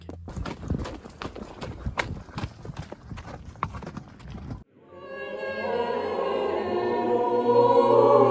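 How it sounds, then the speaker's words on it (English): Horse hooves clip-clop steadily on a trail up Mount Vesuvius, a close rhythmic series of hoof strikes lasting several seconds before giving way to a sustained tonal drone. "What better way to climb to the top of this volcano than with a horse?"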